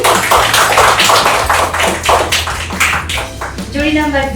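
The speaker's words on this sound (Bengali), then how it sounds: "আরেকবার হাততালি।" A group claps loudly and steadily at a game show jury scoring, rapid overlapping hand claps that run for about four seconds, with a voice speaking over the end.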